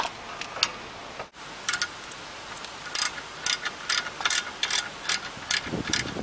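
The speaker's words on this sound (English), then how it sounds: "Go ahead and remove the 16mm hex head bolt holding the caliper to the steering knuckle." A ratchet wrench backs out the 16mm hex-head bolts holding the rear brake caliper to the steering knuckle on a BMW E46. Close, crisp bursts of rapid clicking repeat in short runs with brief pauses between them, and no one speaks.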